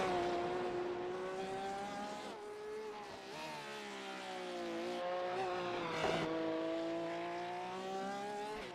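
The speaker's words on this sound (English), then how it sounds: "But you could still hear the car. So there he is, going through the stadium section." A GTE race car in a racing video game at the Nürburgring drones past with a steady high engine whine that rises and falls through the gears, loud and close throughout, with no talk.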